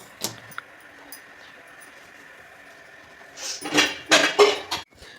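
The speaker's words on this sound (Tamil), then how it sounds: "இதை வந்து லாக் போட்டு மூடி வச்சுருவோம்" A metal pressure cooker lid is fitted and locked shut, a few faint clinks followed by a louder burst of close metallic clattering and scraping near the end.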